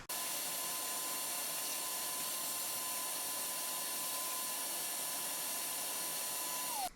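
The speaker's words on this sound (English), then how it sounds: "I'm going to grab a vacuum real quick and suck that out" A steady, loud whining vacuum cleaner suction drone runs continuously, close by, sucking debris out of a Chevy 4.3L air box, with a high motor tone that drops as it powers down at the end.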